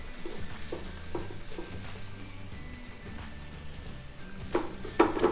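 Onion cooking in oil in a pan, a steady low sizzle with repeated scraping stirs and a few sharper utensil knocks toward the end.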